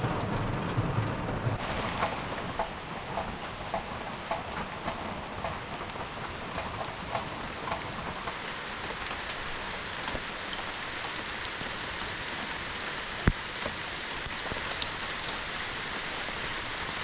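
Rain falls at a campground in Fayette State Historic Park, Michigan, a continuous close patter and hiss lasting well over fifteen seconds, with a brief wind rumble at the start and a single sharp tap partway through.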